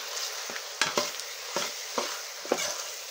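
Onions and green chilies frying in oil with salt added, giving a steady close sizzle broken by several soft stirring scrapes and clinks against the pan.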